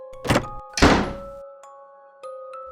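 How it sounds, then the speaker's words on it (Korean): A key turns in the lock of a boarding-house room door. Two sharp clunks follow as it opens, then a few faint clicks under a steady tonal hum. "난 심란한 마음을 뒤로 한 채 방문을 열쇠로 열고 안으로 들어섰다"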